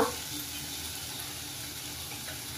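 Paneer bhurji ingredients, including a paste, sautéing in a pan, giving a steady, soft hiss of sizzling that starts with a brief louder burst and then holds even and close.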